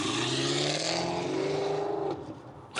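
A Chevrolet Camaro with a big V8 engine roars loudly and continuously close by while pulling a large plane, its pitch climbing as it revs before easing off near the end.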